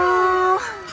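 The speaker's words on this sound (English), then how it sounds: "Doggies!" A dog gives a short, close, tonal howl that breaks off into a brief yip.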